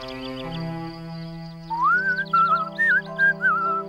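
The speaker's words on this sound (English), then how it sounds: "You always did whistle a good tune." A cartoon character whistles a bright, wavering tune over soft background music, the whistled notes entering partway through and rising and falling in short phrases.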